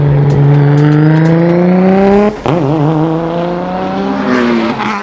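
Croydon Racing's carbon-clad Nissan Skyline R34 GT-R race car screams at the World Time Attack Challenge, engine climbing steadily in pitch, breaking sharply once at a gear change, then pulling hard again, loud and close.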